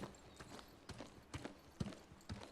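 Hooves of a horse in the video game New World clip-clop in an uneven trotting rhythm, several distinct thuds over a soft background hum.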